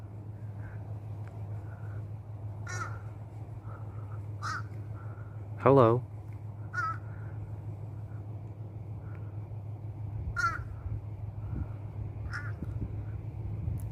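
A single crow in a park caws repeatedly in short, scattered bursts, one louder rattling call in the middle, over a low steady hum, while a person speaks briefly.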